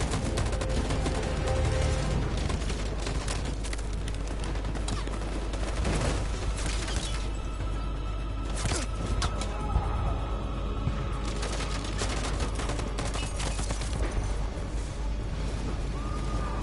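A firing squad's volley of gunfire in the video game Detroit, sharp shots cracking amid a dense, loud wash of game sound that runs throughout.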